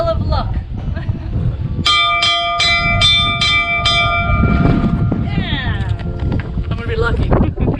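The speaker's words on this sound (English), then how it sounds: "This is the bell of luck." A bell of luck at a hilltop fort rings out in about six evenly spaced, resonant strikes with lingering overtones, over steady wind rumble and some background voices.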